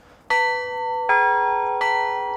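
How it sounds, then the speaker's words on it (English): Orthodox church bells are rung by pressing down on horizontal cable lines, giving three clear metallic strikes about three-quarters of a second apart, each ringing on with a bright sustained tone, loud and close, with no voices. "The way it works to ring these 2 middle bells is you just push down on these horizontal lines."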